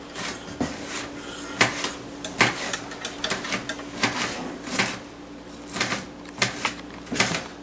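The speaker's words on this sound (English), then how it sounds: "Just a nice, simple dice here on the onion." A kitchen knife dices an onion on a cutting board in a steady run of sharp, crisp chops, spaced about half a second to a second apart, close and clear with no talking.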